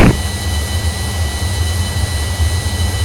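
Avro Vulcan jet in a flight simulator game, a constant loud low engine roar with a steady high whine on top, flying near Mach 1, unbroken and without speech.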